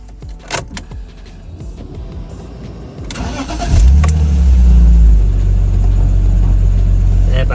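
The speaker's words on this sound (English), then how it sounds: "And when I start the car now," A BMW E46 car engine cranks and fires up after a few faint clicks and key jangles. It then settles into a loud, steady idle close by.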